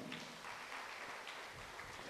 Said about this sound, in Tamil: கைத்தட்டிக்கோ